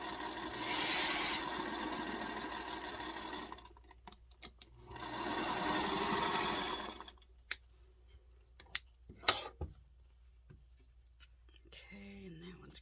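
A sewing machine runs in two steady bursts, stitching quilt block pieces together for a Christmas tree block, close by, followed by scattered clicks and handling noises as the fabric is moved.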